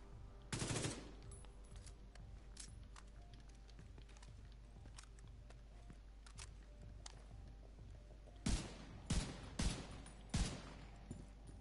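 Assault rifle bursts in the video game The Division 2: a brief burst near the start, then a quiet stretch with faint background activity, followed by several sharp, evenly spaced bursts close up toward the end.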